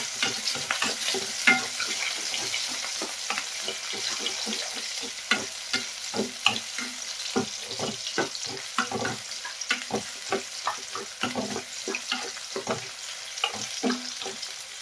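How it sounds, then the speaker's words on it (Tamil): Food sizzles in hot oil while a utensil scrapes and taps the pan in a steady, uneven rhythm, close and continuous throughout, as country rooster chicken is sautéed. "இதையும் ஒரு ரெண்டு நிமிஷம் நல்லா வதக்கி விட்ருங்க இந்த எண்ணெயிலேயே"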